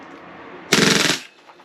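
Tokyo Marui MWS airsoft rifle, tuned for high rate of fire, firing one short full-auto burst of about half a second, a fast, loud buzzing rattle that stops abruptly after a quiet lead-in.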